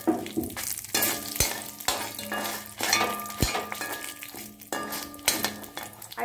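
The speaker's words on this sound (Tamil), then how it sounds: "மூணு மிளகாய் போட்டிருக்கேன். நல்லா வதக்கலாம்." Green chilies frying with urad dal in a pan for mint chutney, a loud close sizzle broken by repeated sharp spoon clinks and scrapes on the metal pan, no speech.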